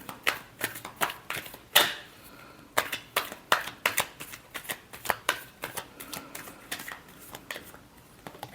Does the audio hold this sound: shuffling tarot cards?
yes